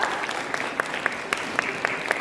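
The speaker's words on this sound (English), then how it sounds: "Take a big round of applause for all the gentlemen of here." An audience at an education symposium applauds with steady, moderately quiet clapping that carries on without a break, with sharp individual claps standing out at irregular moments.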